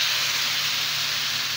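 Chopped onion and tomato hit hot cooking oil in a pan, giving a loud, steady hiss of frying that holds unbroken the whole time, with no voices.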